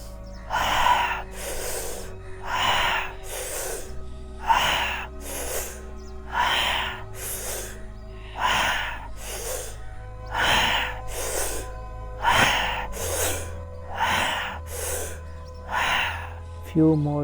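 Forceful rhythmic breaths during a guided breathing meditation, about a dozen sharp, loud exhale bursts roughly every 1.3 seconds, with a steady low drone underneath.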